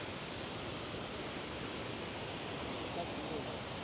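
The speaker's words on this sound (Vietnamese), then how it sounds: "Suối này bây giờ chảy to ông nhỉ" A strong mountain stream rushes steadily near farm fields, a dense, even wash of water noise that fills the whole clip without pause.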